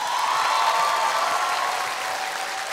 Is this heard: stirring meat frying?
no